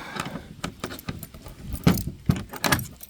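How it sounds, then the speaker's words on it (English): A large bunch of keys jangled and sorted through by hand, bursts of bright metallic clinks in an uneven rhythm, close and fairly loud. "Too many keys."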